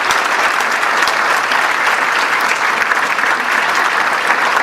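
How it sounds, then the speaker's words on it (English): A full room claps for the sponsors at a police awards luncheon, steady and even applause throughout with no voices on top. "let's all give a big round of applause for all of our sponsors"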